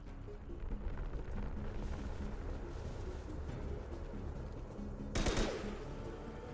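Sustained gunfire in the video game Mass Effect 2, a dense continuous rattle of shots with a louder burst near the end, set against steady low battle rumble.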